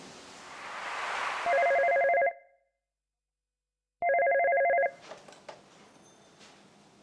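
A telephone rings twice in short, loud electronic bursts separated by a silent gap, in a quiet indoor scene from a Bangla drama, with a faint background bed of room noise before and after.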